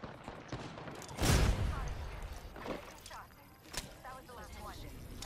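Gunfire from a G7 Scout rifle in the video game Apex Legends, a heavy burst of shots followed by a few sharper cracks, mixed under game sounds and a player talking.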